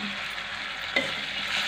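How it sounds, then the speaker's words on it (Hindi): Masala spices for kadhi cooking in a pan, giving a steady, close sizzle and hiss of frying throughout with a brief stir or clink near the middle, no talking. "जब तक मेरा मसाला पक रहा है"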